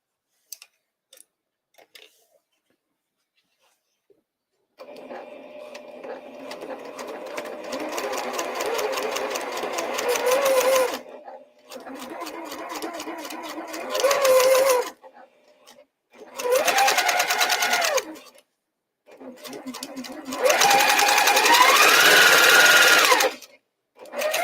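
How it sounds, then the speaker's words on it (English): A sewing machine stitches quilt blocks in bursts of steady rapid whirring, separated by short pauses, fairly close and loud with no talking. "now I've just got to, sew the blocks."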